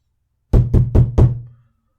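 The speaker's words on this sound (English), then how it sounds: "I heard a knock at the door, with the door knocker above" Four quick, heavy knocks from a door knocker striking a door, evenly spaced and resonant, close and loud, with a short ring-out after the last strike.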